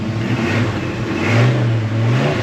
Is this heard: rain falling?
no